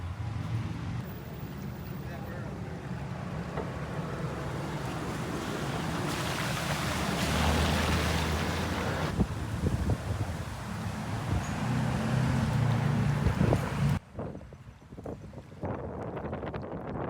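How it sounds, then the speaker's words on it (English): Ocean waves and strong wind out at sea off South Beach, a steady roar of wind buffeting the microphone over rushing water from a boat, ending in a sudden drop to quieter splashing. "We're out in the ocean in front of South Beach."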